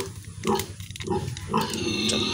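A pregnant sow, 105 days along, grunts hungrily on a pig farm, giving three or four close, loud, rough grunts in quick succession.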